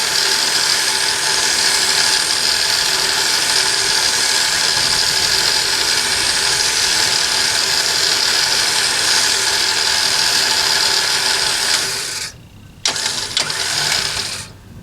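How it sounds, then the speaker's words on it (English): A Quadratec Q9500is winch mounted on a Jeep Wrangler JKU reels in cable, a loud steady whirring motor drone that stops abruptly, then briefly resumes. "And I'm just winching in the last 10 to 12 feet of my winch here"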